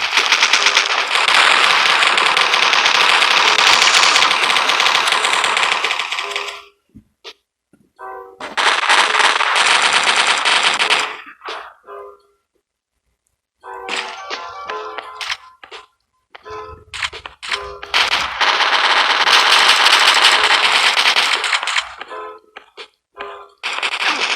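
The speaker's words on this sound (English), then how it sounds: "there is a lot of long range shooting in here" Long-range gunfire in the mobile FPS game Coalition, with loud bursts of rapid automatic fire separated by short silences and sharper single shots.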